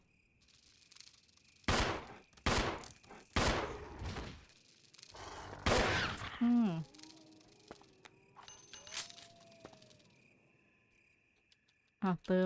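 Several loud gunshots in Resident Evil fired in an irregular burst, followed by quieter game effects and electronic tones, with a short spoken remark partway through.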